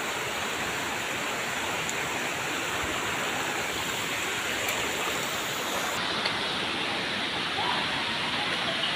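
Madhe Ghat waterfall in the Konkan hills roars in a steady, dense rush of falling water, close and continuous throughout with no voices over it.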